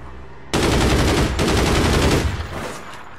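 Gunfire from the online shooter game APB Reloaded comes as a long, loud rapid burst that starts abruptly, drops out for a moment, then carries on and tails off toward the end.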